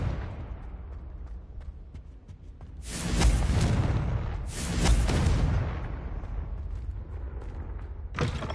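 The Confringo fire spell in Hogwarts Legacy goes off as two loud whooshing blasts a couple of seconds apart, followed by a third sharp burst near the end, with no talking.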